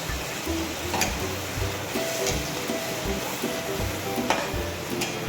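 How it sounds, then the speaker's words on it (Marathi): Paneer gravy hissing and sizzling as it goes into a hot pan, a loud, steady frying crackle with a few sharp scrapes and clinks of a spoon stirring in the pan. "आपण आता ग्रेव्ही घालून घेऊया ह्याच्यामध्ये"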